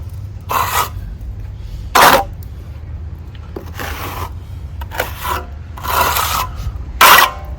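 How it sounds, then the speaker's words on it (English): Trowel scraping fresh stucco on a wall during a patch repair, a series of about six harsh rasping strokes, some short and some drawn out, close and loud against a quiet background. "I'm scraping it on the wall is what I'm doing"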